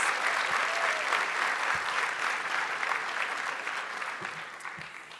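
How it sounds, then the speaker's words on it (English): Sustained applause from a gala awards audience honoring employers and vendors, a dense wash of many hands clapping that holds steady and then gradually tapers off, with no voices over it. "Let's give our employers and vendors a round of applause."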